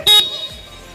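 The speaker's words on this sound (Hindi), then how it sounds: "ये देखिए दोस्त बाइक का हॉर्न," A Hero HF 100 motorcycle gives one short, sharp honk of its horn, close and loud, then falls quiet.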